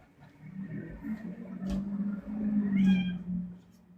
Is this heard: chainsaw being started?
no